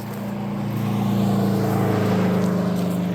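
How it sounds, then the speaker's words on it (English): Road traffic passes on Mallory Road beside the Florida Trail at Eglin Air Force Base. A steady engine drone swells gently through the pass, close and continuous, with no voices. "there's a truck coming, car coming"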